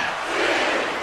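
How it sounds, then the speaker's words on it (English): A dense arena crowd chants and roars in a WWE 2K wrestling match, a steady loud wall of voices throughout with no break. "when you hear the crowd chanting"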